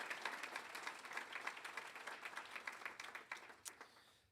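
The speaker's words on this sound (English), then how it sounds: "Please give them a big round of applause" An audience at a university Founders Day award celebration gives a round of applause: faint, distant, steady clapping from a crowd, continuing throughout.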